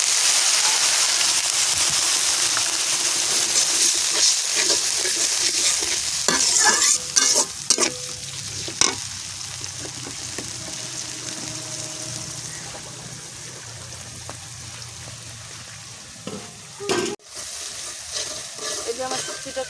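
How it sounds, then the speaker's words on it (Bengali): Dried fish with turmeric, salt, garlic paste and a splash of water stir-fried in a pan: a loud, continuous sizzle with crackling pops and the scrape of stirring, heard up close and alone. "এখন শুটকিটা আমি কষায় নেব,"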